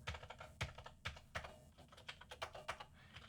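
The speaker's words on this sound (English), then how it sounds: "type in the path to it" Quick irregular keystrokes on a computer keyboard, a burst of crisp clicks with short pauses in between, close and fairly quiet with no voice over it.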